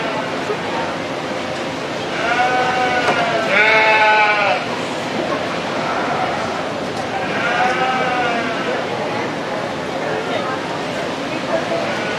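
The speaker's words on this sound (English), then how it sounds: "High quality set of sheep here in this class as well." Sheep bleat at a dairy and beef livestock show, two bursts of wavering, overlapping calls rising above a steady hum of crowd and hall noise.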